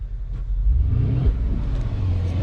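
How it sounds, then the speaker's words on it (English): Mercedes ML63 AMG engine revving up close, a deep rumbling rise that peaks and drops back to a throaty idle. "I'm gonna see if I can rev it real quick for you guys. Let me rev this, see if you can hear it."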